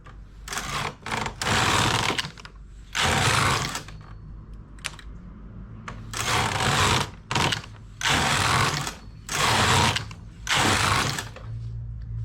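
A knitting machine's carriage runs back and forth over the needle bed, knitting a narrow 10-row side band: loud, repeated ratcheting sweeps of roughly a second each, with short pauses between passes.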